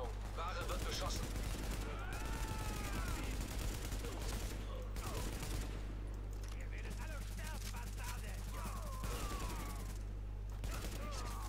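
Sustained gunfire from The Division video game rattles through the whole stretch in dense bursts and volleys, with a steady low hum underneath and someone talking over the shooting.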